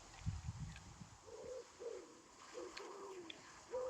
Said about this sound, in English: When I hear a pigeon make that noise